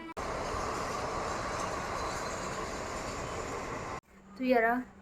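A steady, broadband rumble of a train passing close by for about four seconds, then it cuts off and a voice speaks briefly.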